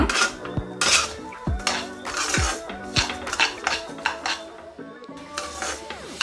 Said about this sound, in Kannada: ಲೋ ಫ್ಲೇಮಲ್ಲೇ ಇದನ್ನು ಇದೇ ರೀತಿ ಹುರ್ಕೋಬೇಕು. ಒಂದು 5 ನಿಮಿಷದಷ್ಟು ಇದೇ ರೀತಿ ಇದನ್ನು ಹುರ್ಕೊಳ್ಳೋಣ.